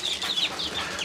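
Weak, sickly chick peeping near other chicks, a few short high chirps in quick succession, close and fairly faint with no talk.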